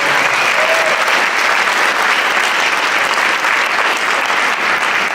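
Steady, loud audience applause at a New York City Council member's inauguration, honoring a school performance, with continuous dense clapping from many hands throughout.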